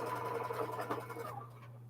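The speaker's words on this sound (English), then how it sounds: "I had just started sewing my leader ender block and got just like 5 stitches in" A sewing machine stitches the first few stitches of a pinwheel leader ender quilt block, a steady close mechanical whir with a constant low hum for about a second before quieting.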